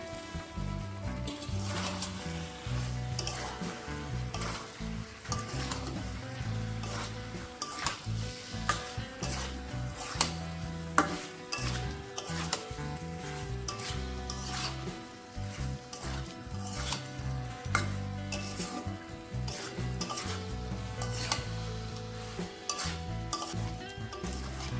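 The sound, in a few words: fried potatoes and jackfruit sizzling as added to pan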